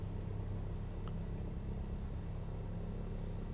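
Steady low rumble of a Cessna 172 piston engine running after starting in Microsoft Flight Simulator 2020, loud and constant without talk.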